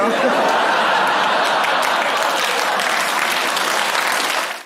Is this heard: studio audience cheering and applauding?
yes